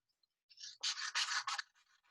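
Paper for a handmade book is cut with a few quick, close scratchy snips in a short burst, followed by faint rustling in an otherwise quiet room.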